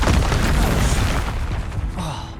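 Fiery Confringo spell blast cast in Hogwarts Legacy, a loud booming burst that fills the clip with rumbling low end, followed by a second sharper whoosh near the end, with game combat noise around it.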